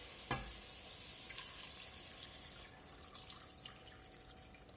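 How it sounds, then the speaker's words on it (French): Broth poured over chopped vegetables in a pot for a butternut squash and red lentil soup, a soft steady liquid wash with a brief splash at the start, fairly faint and without talk. "je vais venir mouiller le tout, recouvrir tous mes légumes avec du bouillon"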